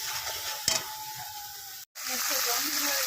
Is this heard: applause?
no